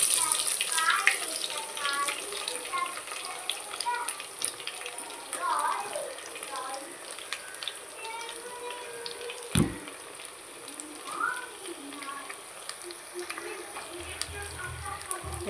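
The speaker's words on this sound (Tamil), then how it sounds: "இப்போ நறுக்கி வச்சுருக்கிற வெங்காயத்தை சேர்த்துக்கலாம்." Chopped onions hitting hot oil for a prawn biryani, giving a steady, close crackling sizzle with bubbling that continues throughout under a person talking.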